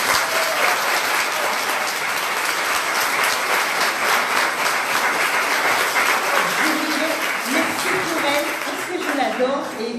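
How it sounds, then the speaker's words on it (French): An audience claps loudly and continuously for an elderly lady at a mediumship show in Marseille. The applause is dense and sustained, and a voice begins speaking over it near the end. "Je voudrais qu'on applaudisse cette dame."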